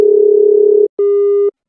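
A phone call rejected mid-dial gives a busy tone: a long loud steady electronic beep, a brief gap, then a shorter second beep, clean and alone.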